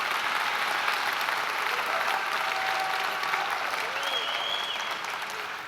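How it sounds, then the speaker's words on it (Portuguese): A church congregation applauds Jesus in a sustained, even wash of clapping from a large crowd, moderately distant, with faint voices and a brief whistle-like tone riding over it. "pode aplaudir a Jesus"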